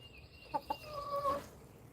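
Large chickens cluck in a yard, a couple of sharp close clucks followed by a drawn-out, wavering cackle, fairly quiet with no talk.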